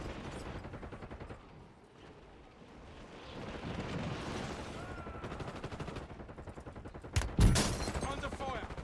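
Rapid gunfire and explosions fill a war video game scene, with sustained bursts through most of the stretch and a sharp louder blast near the end, mixed with in-game radio voices.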